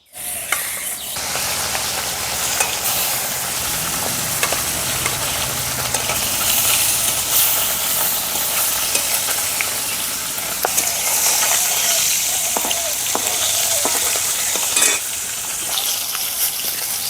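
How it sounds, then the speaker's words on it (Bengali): Steady, loud sizzling of sati fish frying in hot oil, continuous crackle and spatter throughout with occasional sharper pops, no talking. "মাছগুলো ভেজে নেব"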